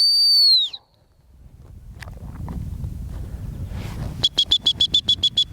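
A sharp trilled stop whistle blasts loudly at the start during gun dog puppy training outdoors, followed by footsteps on ground and then a rapid series of short repeated whistle pips near the end.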